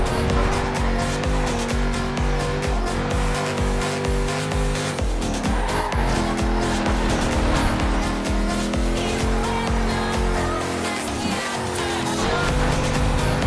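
Rally car in the Forza Horizon 2 game, engine roaring loud and continuous with rising and falling revs through gear shifts and tyre noise, a steady close racing drone.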